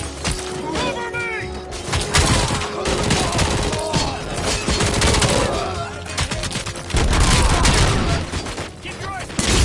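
Dense, loud gunfire from the Robocop video game, with rapid automatic bursts and overlapping shots continuing throughout, mixed with game sound effects and voices shouting over the shooting.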